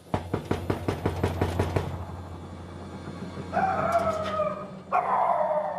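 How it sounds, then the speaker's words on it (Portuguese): A dog barks in a quick run of about a dozen sharp yelps, then pauses before two longer, higher whining calls follow. "O cachorro tá aí."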